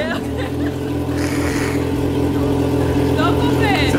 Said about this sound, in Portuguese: vou ligar a moto aqui, Camila.